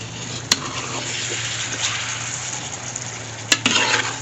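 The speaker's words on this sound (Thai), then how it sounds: "โอ้กำลังเดือดได้ที่เลยครับ" Curry with coconut milk bubbles at a steady boil in a pan, a continuous close sizzling hiss with a low hum beneath and a couple of sharp clicks, no one talking.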